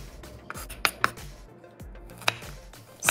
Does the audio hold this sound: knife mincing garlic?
yes